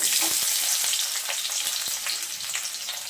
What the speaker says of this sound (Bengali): পেঁয়াজটা আমি নাড়াচাড়া করে লাল করে ভেজে নেব